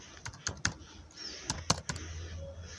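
Soft, irregular clicks of keys being typed on a computer keyboard, quiet and close, in short bursts over a low background hum.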